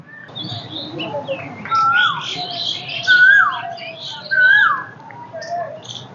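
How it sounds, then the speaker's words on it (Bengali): An Asian koel calling in Chandrima Udyan park, three clear rising-and-falling whistled calls at a moderate distance over background birds chirping. "কোকিল ডাকছে"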